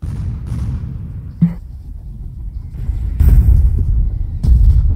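Gunboat artillery fires and shells explode in the war game Foxhole, with heavy booms, a sharp blast, and loud rumbling bursts over continuous low battle noise.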